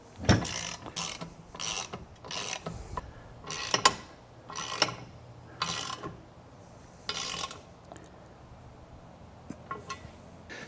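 A hand ratchet tightens the bolts holding a Gen-Y gooseneck puck hitch unit together on a 2026 Ram 3500 Mega Cab, in repeated close, crisp bursts of clicking pawl strokes separated by short pauses.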